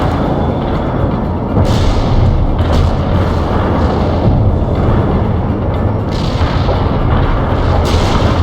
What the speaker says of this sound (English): Fire mission received. Artillery barrage inbound.